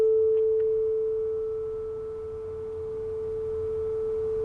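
A single steady pure sine tone holds one pitch throughout, alone and clean, its loudness gently decaying and then evening out slightly with no beating or other sounds.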